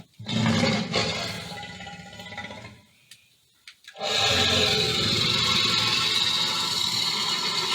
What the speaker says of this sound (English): all kinds of different growls and roars and everything.